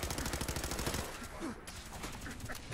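Rapid automatic gunfire from an upgraded weapon in Fallout 4, a dense stream of close, loud shots that sustains for about a second, then continues as more scattered shots.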